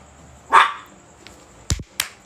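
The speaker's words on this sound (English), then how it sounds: "I have my dogs here, so you may hear them." Several dogs bark indoors: one loud, close bark, then a few shorter, fainter yips and barks spaced out over a quiet room.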